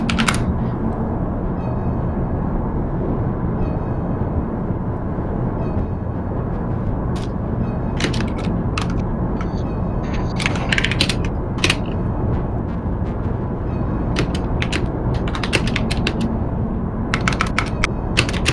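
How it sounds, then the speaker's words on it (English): Fast, furious clacking of a computer keyboard right beside the microphone, dense and continuous with sharper bursts of keystrokes, loud and close over a steady low background hum. "That is some furious typing."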